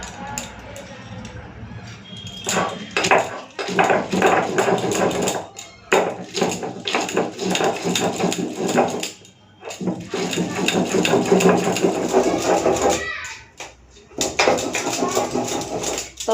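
Ginger and garlic ground by hand on a stone slab (shil) in a home kitchen, a rough rhythmic scraping and rubbing that comes in repeated strokes with brief pauses, close and fairly loud, with no talking over it.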